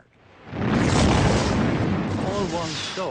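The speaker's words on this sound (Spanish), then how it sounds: "Lo único que veíamos eran destellos y ruidos de torpedos que alcanzaban barcos. Y explosiones." Torpedoes strike ships: a deep, rumbling blast swells up and rolls on as a long, roaring explosion, loud and close, with faint tonal whines near the end.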